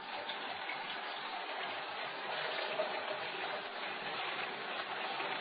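Clean water runs steadily through a Hurom slow juicer to rinse it between fruits, a continuous soft trickling wash at low level with no talk.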